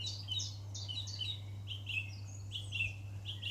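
Small birds, a chiffchaff and a song thrush, sing from the top of a bush in an urban spot, their short, high repeated phrases clear but moderately distant over a steady low hum.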